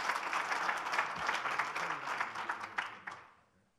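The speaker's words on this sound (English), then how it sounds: "certainly deserves a big round of applause" Audience applause at a winter water quality symposium, a dense steady clapping from a room of people that holds for about three seconds and then fades away.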